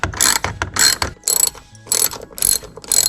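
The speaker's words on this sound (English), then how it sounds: "now we're gonna take the T20 on this bolt right there, as well as the one in back" A T20 Torx driver ratchets in repeated bursts of clicking while loosening a bolt on the B-pillar trim of a new Toyota Supra, close and alone with short pauses between strokes.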